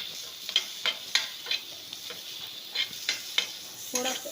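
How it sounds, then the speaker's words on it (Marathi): Large-cut onion fries in a pan with a soft steady sizzle, punctuated by regular close scraping strokes of a spatula stirring it. "आता त्या पॅनमध्ये कांदा घालून घेऊया."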